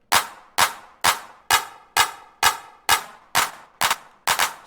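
A clap widened with a short Haas-effect stereo delay repeats about ten times at a steady pace; each hit is a bright crack with a slightly smeared, ringing tail, and the last hits show a doubled attack.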